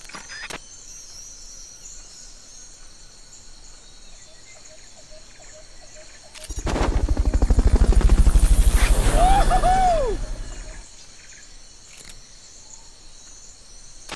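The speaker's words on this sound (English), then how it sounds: "Fulton recovery subject confirmed onboard helicopter" In the video game Metal Gear Solid: Peace Walker, a Fulton recovery helicopter swells into a loud whooshing roar for about four seconds, then fades back to quiet game ambience.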